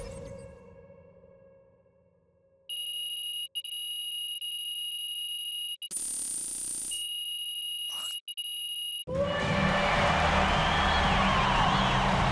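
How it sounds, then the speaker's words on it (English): In the NBA 2K26 basketball video game, a final buzzer sounds as a steady, shrill electronic tone held for several seconds with a few brief breaks, followed by a burst of loud crowd noise. "That's the final buzzer, and Barcelona basket get the win."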